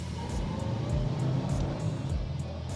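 A 1970 Plymouth Cuda with a 440 six-barrel engine pulls hard in second gear, its deep, throbbing exhaust rising and pulsing in close, rhythmic surges heard from inside the car.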